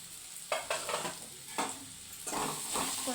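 Egg rice frying in a pan with chilli powder and chicken masala, stirred by hand: a steady sizzle with scraping stirring strokes recurring every second or so, close and fairly loud, with no voices.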